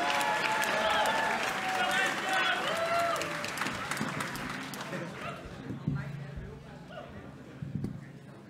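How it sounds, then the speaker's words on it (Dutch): An audience at a jazz and astronomy talk applauds for the speaker, a warm burst of clapping that gradually thins and fades, with voices and a few scattered claps near the end. "Een hartelijk applaus graag voor Marijke."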